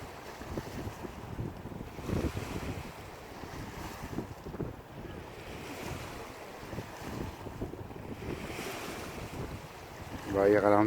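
Wind and waves rush steadily around a sailboat in the Bay of Quiberon as a shuttle boat arrives in the current, a continuous blustery wash with wind buffeting the microphone and a louder gust near the end.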